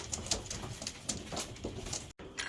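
Returning pigeons coo and flutter nearby, with repeated soft calls and light wing patter scattered irregularly over a busy outdoor background.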